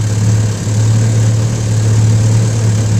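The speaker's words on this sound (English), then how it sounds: "1953, I believe, Firestone 10 horsepower. It's a motor made by Scott Atwater" A 1953 Firestone 10 horsepower outboard motor, built by Scott Atwater, runs at a steady idle with a constant low hum and a broad mechanical drone, loud and close, with no voices.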